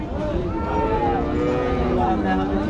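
A dairy cow lows loudly and close by at a city cattle market in Rajshahi, one long drawn-out moo that fills the whole moment.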